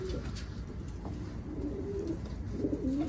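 Pet pigeons or doves coo softly a few times against a quiet indoor background, faint and close.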